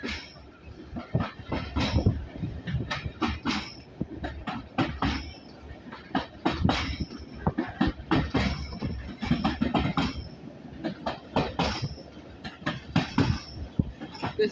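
Old carriages pulled by the steam engine Titan between Corfe Castle and Swanage ride with a steady clickety-clack of wheels over rail joints, rattling and rumbling close by, with some faint talk in the background.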